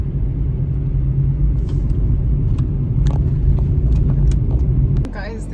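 A car driving along a narrow road in Barbados, a loud continuous engine and road rumble with rattling bumps throughout, ending in a brief sharper clatter near the close.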